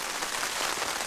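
Rain pattering steadily on a tent during canoe camping, a dense close hiss of drops with no breaks and no voices.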